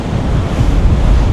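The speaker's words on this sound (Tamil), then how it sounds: "இதில் நிற்கவே கடல் அலை வந்து அடித்து தண்ணி மேலே பறக்கும் பாருங்க." Sea waves crash and wash against the rocky shore at Kankesanturai, a loud, continuous roar of surf and spray mixed with heavy wind buffeting close to the microphone, with no voices.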